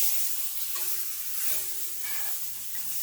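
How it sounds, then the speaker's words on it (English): Pork sirloin roast frying in a pan, a steady soft sizzle and hiss with faint stirring or shifting noises, continuous and moderately quiet with no talk. "it's been frying on that side for about a minute, so I'm going to go ahead and try to flip it over here"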